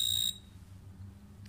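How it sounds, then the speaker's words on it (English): An electronic buzzer on a bicycle distance sensor sounds a loud steady high-pitched tone for about a third of a second, then cuts off, leaving low background hum. "the buzzer will go on"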